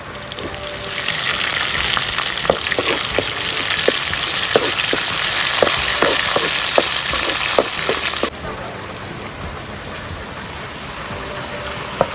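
Curry leaves hit hot oil while a Kerala curry cooks, giving a steady close sizzle with scattered sharp pops that fades to a quieter hiss partway through.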